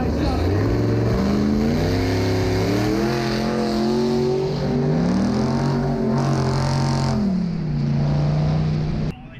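A cab-over-engine hot rod with a rear-mounted Cummins diesel roars loudly and continuously, its pitch climbing and falling through repeated revs up close.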